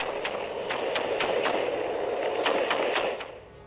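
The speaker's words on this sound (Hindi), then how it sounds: "यूक्रेनी पोस्ट पर अंधाधुंध फायरिंग।" Gunfire at a Ukrainian military post in a war zone, rapid bursts of sharp cracking shots in uneven clusters over a loud, rumbling background, easing off near the end, with no voices.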